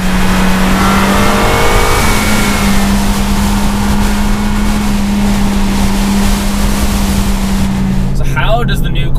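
A 2019 Toyota Corolla XSE hatchback, a front-wheel-drive compact, driving and accelerating with a loud, steady engine drone that holds one pitch, heard from inside the car under continuous road and wind noise.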